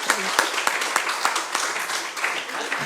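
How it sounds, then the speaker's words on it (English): Panel audience gives a short round of applause, scattered distinct hand claps forming a moderately loud, irregular patter throughout, without clear talk. "I think a round of applause for the effort"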